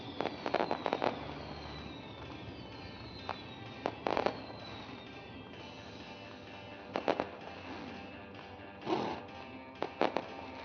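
Fireworks at Ohsweken Speedway, sharp distant bangs and crackling bursts in scattered clusters over a quiet ambient hum.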